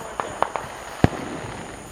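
Fourth of July fireworks outdoors: a few small sharp pops followed by a louder, deeper single explosion, with a steady background hiss between them.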